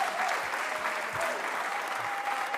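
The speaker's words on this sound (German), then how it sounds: "Ihr könnt schon klatschen." A television studio audience at a German Schlager variety show claps in a steady, sustained round of applause that fills the whole stretch.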